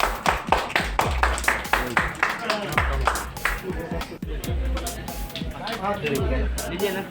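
Clapping at the grand inauguration of a makeup artist and salon: rhythmic, fairly close hand claps in a steady beat, with ringing tones and voices talking alongside them through most of the stretch.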